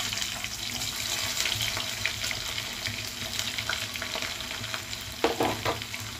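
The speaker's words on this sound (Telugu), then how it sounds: "తాలింపు గింజలు కూడా వేగుతుంది కదా." Tempering seeds and sliced onions fry in hot oil with a steady crackling sizzle, and a few utensil scrapes and clinks near the end.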